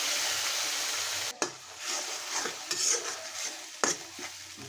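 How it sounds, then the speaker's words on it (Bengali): Spice masala for a prawn dish sizzles and fries in a pan while a spoon stirs it, with steady frying hiss and a few sharp scraping knocks against the pan. "মশলাটা ভালো করে একটু কষিয়ে নিতে হবে"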